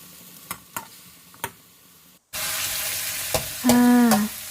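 Minced pork fries in a pan for a Thai holy basil stir-fry. A few soft ticks and clicks come first, then a loud, steady sizzle starts abruptly, with a brief whining tone near the end.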